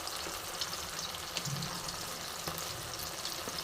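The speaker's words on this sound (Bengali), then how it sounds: "মশলাগুলি আমি একসাথে মিক্সিতে পেস্ট করে নিয়েছিলাম, তো সেটা আমি তেলে ছেড়ে দিলাম" Ground spice paste frying in hot white oil for chicken cutlets gives a soft, steady, continuous sizzle and crackle with faint ticks, fairly quiet and with no voices.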